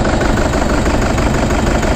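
A 2008 Toyota Prado KDJ120 diesel engine with no compression on cylinder 2 runs at idle close by, a loud, rough, continuous rumble with uneven knocking from the misfire.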